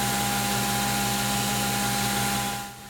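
A Japanese sushi knife blade being ground on a power grinder, with part of the blade left unground, gives a steady, loud motor whine and hiss with a sustained tone that cuts off near the end.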